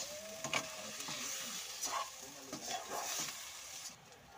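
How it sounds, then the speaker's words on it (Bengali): Mashed potato is stirred and sautéed with spices in a hot pan for potato chops, producing a low continuous sizzle with repeated scraping spatula strokes against the pan, close and quiet, with no voices. "আলুটাকে দিয়ে সমস্ত মশলার সঙ্গে খুব ভালো করে কিন্তু কষিয়ে নেব।"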